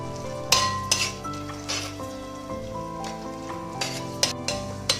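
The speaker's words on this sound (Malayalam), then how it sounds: "അല്പസമയം ഒന്ന് ഇളക്കി കൊടുക്കണം." Vegetable biryani mixture with tomato being stirred in a pan: a utensil scrapes and clinks against the metal in irregular strokes over a steady soft sizzle, with a few louder knocks of the spoon on the pan.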